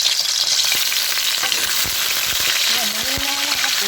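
Milkfish (bangus) fries skin side first in a pan, a loud, close, constant sizzle with light crackles, and a brief voice near the end.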